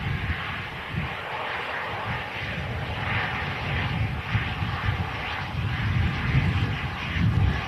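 An EasyJet airliner inbound from Alicante passing at Manchester Airport, a loud rumbling engine roar that swells gradually with gusty wind buffeting the microphone, no voices.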